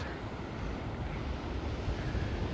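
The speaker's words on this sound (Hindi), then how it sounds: "इस तरफ बहुत ही सुंदर एक झरना है" A Himalayan waterfall fed by a snowmelt stream near Buran Ghati in Himachal pours in a steady, dense rushing roar, continuous and unbroken with no voices.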